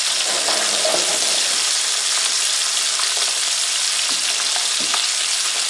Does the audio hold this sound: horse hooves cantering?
no